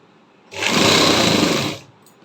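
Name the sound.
sewing machine stitching the centre seam of a halter neck suit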